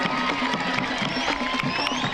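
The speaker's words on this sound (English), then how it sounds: "Let's have a round of applause for our junior high school band members" Crowd at a Slidell versus Ponchatoula high school football game cheering and clapping from the stands for the junior high band, a broad, fairly distant roar with scattered whoops.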